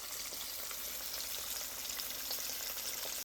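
Fish frying in hot oil in a hot pan, a dense continuous sizzle and crackle, fairly close and steady throughout with no talking.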